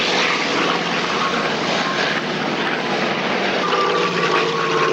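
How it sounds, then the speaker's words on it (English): Biplanes fly past at the Duxford Flying Legends air show, a loud, sustained propeller-engine drone that swells slightly as they pass, close and continuous with no talking. "Biplanes coming back."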